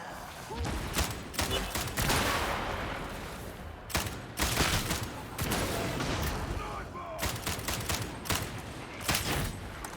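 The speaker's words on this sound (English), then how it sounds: "Oh, we got a sniper over here somewhere." Repeated bursts of gunfire in Warhammer 40k: Darktide, loud sharp shots in clusters across the stretch over a constant background of combat noise.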